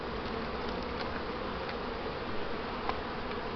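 Honeybees buzz steadily around an open hive during a check of new foundation and swarm activity, a dense continuous drone close by with no voices.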